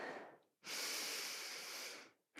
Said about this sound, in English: Smooth inhale here. And maybe open the mouth to breathe out.